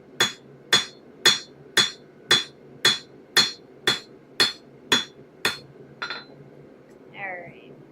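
A steel dagger is being forged at an anvil as a hammer strikes bevels along its edges, eleven ringing metallic blows in an even rhythm that slow and fade, with a brief vocal sound at the end.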